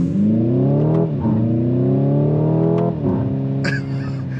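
Hyundai Ioniq 5 N electric car with simulated combustion engine sound, loud synthetic revving rising through the range with gear-shift-like drops and rises between, close and continuous.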